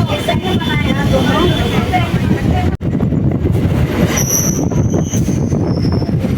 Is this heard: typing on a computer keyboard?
no